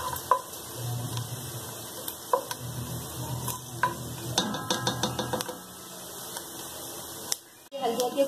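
Almonds and pistachios sizzle and fry in ghee in a pan on the stove, with steady crackling broken by clinks and scrapes of a spoon stirring against the metal, while someone talks over it.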